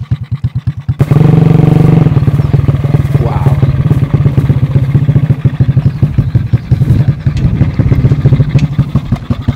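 A Ghana-built motorcycle engine starts up and runs loudly and close, with a steady rapid thumping idle after a short lead-in, holding strong for several seconds.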